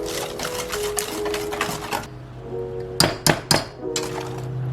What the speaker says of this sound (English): I think it said whisk it. So I'm gonna do that.